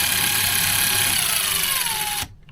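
A Craftsman V20 cordless brushless impact driver runs free with a steady high motor whine that holds loud and even, then cuts off abruptly near the end.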